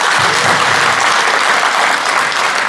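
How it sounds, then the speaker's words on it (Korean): An audience at a book launch event in Daegu gives loud, steady applause to welcome chairman Lee Jae-man, the clapping dense and continuous throughout. "위원장 박수로."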